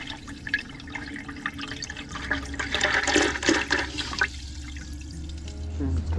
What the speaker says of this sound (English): The water is coming out clear now.